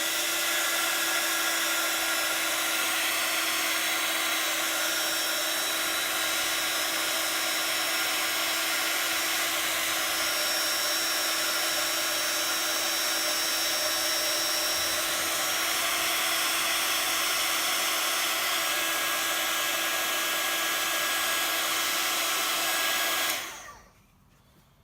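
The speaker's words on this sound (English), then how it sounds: "So I'm just going to heat set it again," A heat tool blows steadily for about 23 seconds while it sets water-based ink on stamped card, a loud constant whirring hiss that cuts off abruptly near the end.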